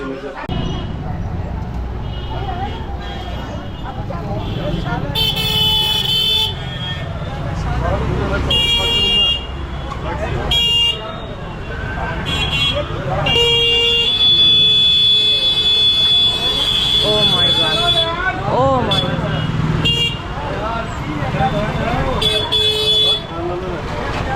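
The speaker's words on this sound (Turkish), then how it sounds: "Trafiğe bakın ya. Bu dar yollarda böyle oluyor işte. Tuk tuklar, motosikletler çok fazla." Traffic crawls through a busy narrow street in Moradabad, India, crowded with tuk-tuks and motorcycles. Short horn toots and beeps repeat irregularly over a constant engine rumble, and people talk throughout.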